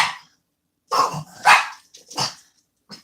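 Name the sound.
dogs barking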